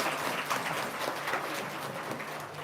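An audience claps together in a dense, steady patter of applause that keeps going at an even level from start to finish, with no voices standing out above it.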